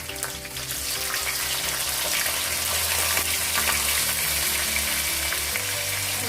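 Onions frying in a pan with cumin seeds, fennel seeds and black pepper, a loud, steady, close sizzle that holds without a break, with no voices.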